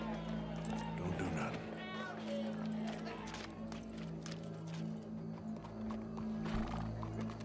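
A horse in the video game Red Dead Redemption 2 makes snorts and hoof sounds inside a busy game soundscape. Steady low ambient rumble and game music run beneath, and characters speak over it throughout.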